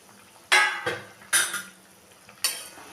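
A spoon scrapes and knocks in a pot as soya chunk muitha balls are mixed into boiling curry, three loud clattering strokes over a low simmer, with no voices.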